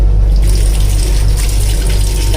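Water runs steadily from the wash basin tap in a train washroom aboard the Shirdi Kakinada Port Express, a continuous close splashing rush that holds level throughout with no voices.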